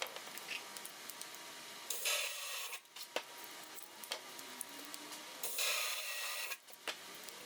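Burrs being sanded out of entrance pipes on a wooden Tegart nuc box, two stretches of close, harsh rasping separated by quieter pauses and small knocks, no talk.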